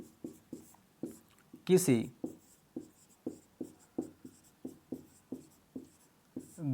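Pen or chalk writing out notes in Hindi, a run of regular, evenly spaced close strokes in a quiet room, interrupted once by a brief louder scrape, with a voice heard only briefly.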